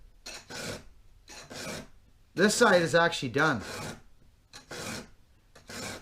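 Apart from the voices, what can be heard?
hand file sharpening a 200T chainsaw chain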